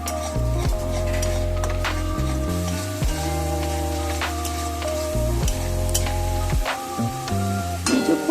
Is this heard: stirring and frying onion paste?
yes